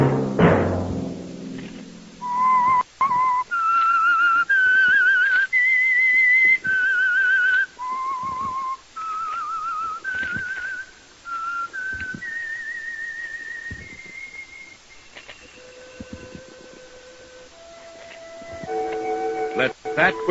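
A lone person whistles a slow, eerie signature tune for a Whistler radio mystery show, clear and near, rising and falling through sustained notes in an old radio recording. A brief noisy burst comes just before it starts.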